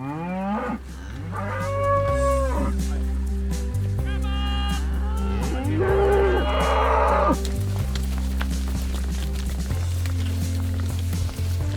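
Aberdeen Angus heifers on a livestock farm moo repeatedly and loudly, close by, with overlapping calls throughout and a voice speaking now and then among them.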